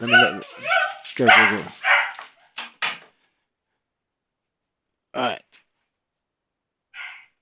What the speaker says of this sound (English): that was the dog just going a little bit crazy